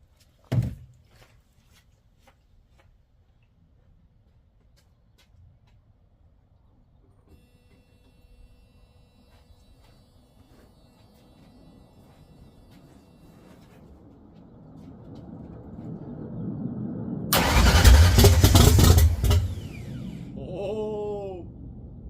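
A 1979 Ford Mustang Fox body project car, its fuel bowl freshly filled, stays near silent for a long stretch, then its engine fires in a loud, rough roar that peaks for a couple of seconds and slowly fades.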